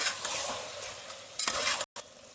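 Chicken frying with ginger garlic paste sizzles steadily while being stirred, with scraping stirs, a short sharp burst near the end and a brief break before it resumes.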